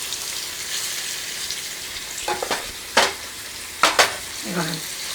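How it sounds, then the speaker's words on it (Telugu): Small nethallu fish frying in a pan of oil, a steady close sizzle with a few stirring clinks and scrapes, nobody speaking. "చక్కగా వేగుతున్నాయి ఇట్లా"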